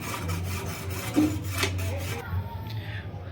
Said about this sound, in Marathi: आम्हाला ना ज्या आकाराचा कंदील हवा आहे त्या आकाराच्या ना मी पहिला काट्या कापून घेतोय आता